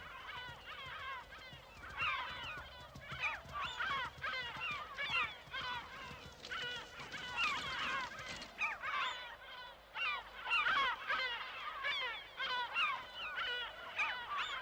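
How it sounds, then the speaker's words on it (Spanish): Gulls call repeatedly at a garbage dump, many overlapping squawks and honking cries from a flock, loud and continuous with brief gaps. "A la cabeza de estos comedores de basura figuran las gaviotas."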